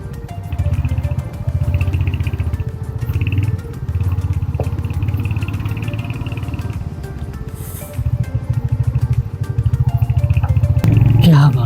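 A Royal Enfield Hunter 350 motorcycle rides along a hill road after off-roading, its steady low engine drone running loud and continuous throughout, with brief dips in level and a burst of clatter near the end.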